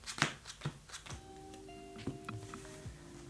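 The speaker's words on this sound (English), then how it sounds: "Let's just shuffle this up and we'll get another 5 cards" Yu-Gi-Oh! trading cards are shuffled by hand in a few quick riffling bursts close to the mic, with soft card slaps and a faint tonal hum in the background.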